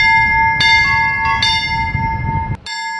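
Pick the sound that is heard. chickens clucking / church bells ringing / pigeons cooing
church bells ringing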